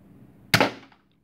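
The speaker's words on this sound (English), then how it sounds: "And a test fire with that dart." A dart fired from a 3D-printed barrel, a single sharp close pop with a quick spring-driven burst that decays over a fraction of a second into quiet.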